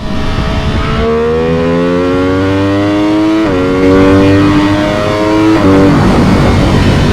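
A 2022 MV Agusta F3 800RR triple-cylinder sportbike accelerates hard through the gears at speed, its engine note climbing in rising sweeps with quick auto-blip shifts, loud and close amid wind roar.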